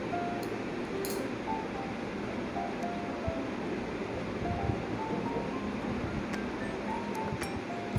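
Potatoes and drumsticks frying in spice paste in a pan, giving a steady close sizzle with light crackle throughout.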